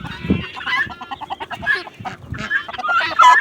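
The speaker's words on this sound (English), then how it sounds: "let's feed Rosie an orange. Or, no, not Rosie, just the chickens" Chickens cluck and squawk loudly and close up while being fed pieces of orange on a farm, a busy run of overlapping calls with a short low grunt near the start.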